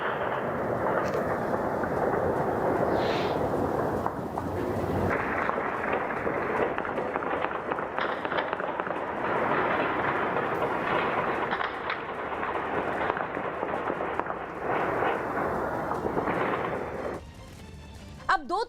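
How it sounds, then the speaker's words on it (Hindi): Taliban fighters fire celebratory shots into the air on the streets of Kabul; loud, dense, sustained crackling gunfire rolls on continuously for most of the stretch before cutting off abruptly near the end. "तालिबान के लड़ाकों ने पंजशीर पर कब्जे का दावा करते हुए काबुल में जबरदस्त हवाई फायरिंग की"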